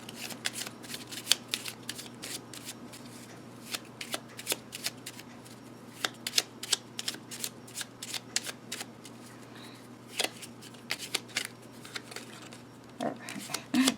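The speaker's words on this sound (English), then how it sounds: "So then I would shuffle, and then I would lay my cards down." Repeated crisp riffling and snapping of a mini tarot deck being shuffled, in irregular bursts over a low steady hum, close and fairly quiet.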